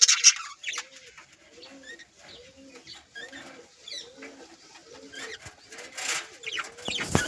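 Pigeons at a nest with eggs: a regular series of soft, rolling coos close by, repeating roughly every half second, with some rustling and a few sharper noises.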